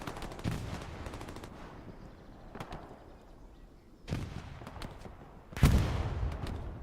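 Machine gun fire in a multiplayer video game match, with rapid bursts of fast automatic shots at moderate loudness, some sounding distant, separated by quieter gaps and followed by a heavier blast.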